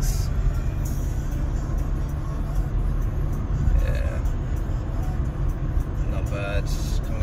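A car accelerates at speed on the German Autobahn, its engine and heavy road and wind roar filling the cabin steadily and loudly, with a voice talking over it.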